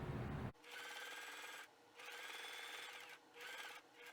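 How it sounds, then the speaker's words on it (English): Sewing machine running a top stitch about 1/8 inch from a seam on a cast iron handle cover: three short bursts of steady, fast mechanical whirring separated by brief pauses, close and quiet. "you're going to run a top stitch across here about 1/8 inch from your seam."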